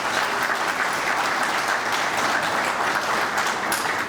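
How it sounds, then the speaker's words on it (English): Loud, sustained applause fills the hall at a State of the City address, a large crowd clapping densely and evenly for the whole stretch without easing off. "give a round of applause."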